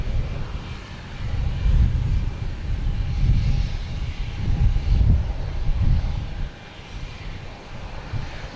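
A JetBlue Airbus A320 airliner at Boston Logan gives off a low, rumbling jet engine roar that swells and holds for several seconds, then fades and drops away near the end.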